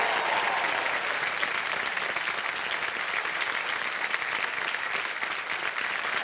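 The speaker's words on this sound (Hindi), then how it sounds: "मनीषा जी तालियां बच्चे आपके लिए" A studio audience on the quiz show Kaun Banega Crorepati gives contestant Manisha a full, sustained round of applause, loud dense clapping that stays steady throughout with no speech over it.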